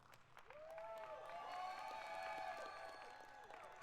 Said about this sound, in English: Lots of applause down there on the floor.